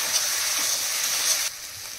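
Ground spices (chilli, turmeric, cumin and coriander powder) sizzle steadily in a pan while being sautéed, a dense continuous hiss that drops slightly in level near the end, with no talk.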